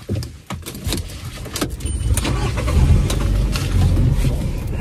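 A motorbike starting up: a few clicks and a brief cranking, then a low engine rumble that builds and keeps idling close by.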